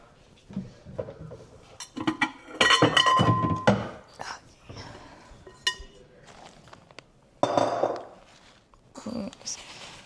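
A bowl is pulled out and set down in a home kitchen while a sweet potato casserole is being prepared, giving several close clattering thunks and clinks of dishes amid shuffling sounds.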